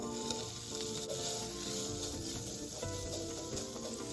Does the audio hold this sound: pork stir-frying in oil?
yes